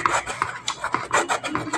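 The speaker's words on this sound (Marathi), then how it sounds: "पूर्ण व्यवस्थित कॉटनच्या कपड्याने एकदम व्यवस्थित साफ करून घ्यायचे" A cotton cloth is rubbed briskly back and forth over a Jack sewing machine, a quick rhythmic rasping and scrubbing close by with no voices.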